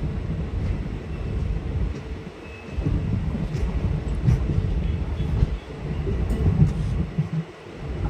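A train on the Beed railway runs past with a loud, continuous low rumble and rattle of wheels and carriages, rising and falling slightly.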